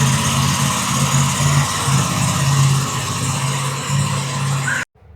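A motorbike engine idles after a cold start, a loud, steady low drone with a faint pulsing rhythm that holds evenly before cutting off abruptly near the end.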